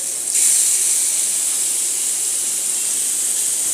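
Kofta balls sizzle in hot oil in a pan, a steady bright hiss that swells loudly as they go in and then holds evenly close by, with no talking.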